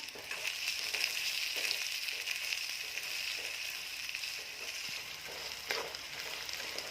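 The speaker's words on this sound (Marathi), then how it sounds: "कांदा चांगला परतल्यावर त्यामध्ये टॅमॅटो घालून घेते टॅमॅटो पण चांगलं परतून घ्यायचा आहे" Tomatoes and onion sautéing in a pan for pithla, a steady close sizzle with occasional soft stirring scrapes and no talk.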